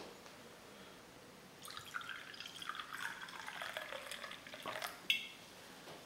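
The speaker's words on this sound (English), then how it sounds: "Let's pour it up." Dunkerton's Black Fox organic cider, a cloudy 7% cider, pours from a bottle into a glass, a steady close liquid rush building from soft trickles, then a small clink near the end.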